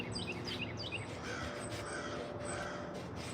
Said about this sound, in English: Hear all the crows